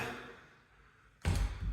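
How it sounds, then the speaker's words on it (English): A warped interior door in a newly built house fails to close properly, ending in a single loud, close thud after a stretch of quiet room tone. "These doors do not shut properly."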